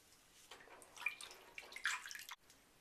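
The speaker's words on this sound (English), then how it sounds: "I don't know if you can hear it, but it's popping." A LUSH holiday bath product sinks to the bottom of a filled bathtub and fizzes, giving faint, close crackling pops and watery bubbling over a quiet background.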